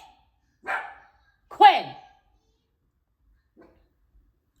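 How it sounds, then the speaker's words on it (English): A pet dog at home lets out a couple of short, sharp barks with quiet gaps between them, and a voice calls out sharply once. "I love that dog, but she love to bark."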